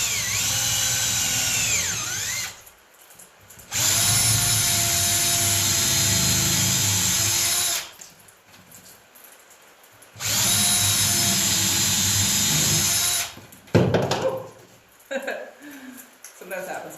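A power drill whines loudly while drilling into a wooden log, in two long bursts of about four seconds each, with quieter pauses and handling noise between and after.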